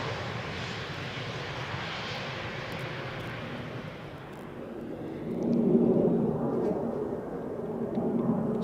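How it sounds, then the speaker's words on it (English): A landing airliner at Amsterdam Schiphol roars down the runway, and the broad jet rumble swells again partway through as the thrust reversers kick in. The sound is loud and continuous, with no voices. "they are actually using their reversers"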